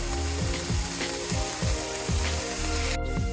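Onion, big bell pepper and two jalapenos frying in a pan, a constant close sizzle with rhythmic scraping strokes from stirring, plus a sharp clack near the end.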